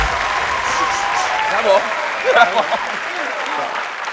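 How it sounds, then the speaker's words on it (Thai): Audience applause at a Thai innovation awards show, dense steady clapping throughout while a voice talks over it. "ผมขอเสียงปรบมือด้วยครับ"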